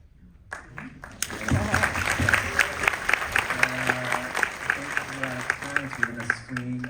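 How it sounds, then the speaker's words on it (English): Audience applause at a question-and-answer session with actors and an executive producer, rising after a quiet start into steady dense clapping with voices and a few spoken phrases mixed in. "let's give another round of applause"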